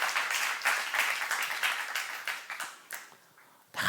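A church congregation at a youth service breaks into applause, a burst of many hands clapping that gradually thins out and fades, with a few last scattered claps at the end.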